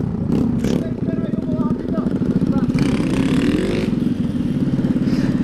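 A Shineray motorcycle carrying three riders rumbles steadily up close through a rough neighborhood, its engine note rising and falling with revving, mixed with rattling and faint voices around it.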